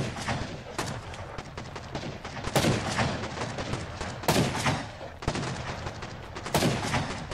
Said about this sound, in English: gunfire continues to be exchanged between both sides